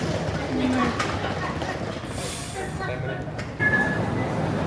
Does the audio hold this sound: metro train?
yes